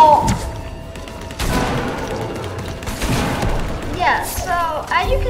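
Chaotic Fortnite match during the Fortnitemares event, with pumpkin launcher explosions and gunfire booming and thudding in bursts throughout, loud and close, while someone talks over the action.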